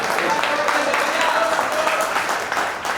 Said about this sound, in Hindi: थोड़ी आप ताली वाली बजाते रहो तो मुझे अच्छा लगेगा